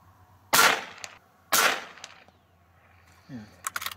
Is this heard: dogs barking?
no